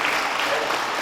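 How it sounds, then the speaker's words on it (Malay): Applause from the audience at a farewell ceremony for a departing director, dense and steady throughout with no gaps or talk. "Syabas dan tahniah kita beri tepukan kepada semua JPPHP."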